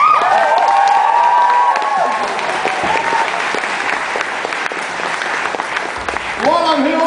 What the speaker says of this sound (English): Round of applause for Robert and David.